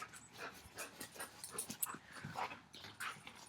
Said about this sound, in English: sorry about my dogs running around, they're very playful this morning